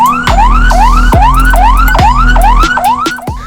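An ambulance siren wails loudly and close in fast repeating upward sweeps, about eight cycles in a few seconds, over a low engine hum in heavy traffic.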